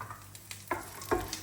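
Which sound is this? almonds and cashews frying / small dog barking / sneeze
almonds and cashews frying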